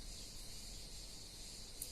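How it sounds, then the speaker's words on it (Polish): Cicadas buzz in a steady, high, hissing drone that stays faint and even throughout, heard in a warm outdoor setting in Turkey with no voices over it. "to są cykady."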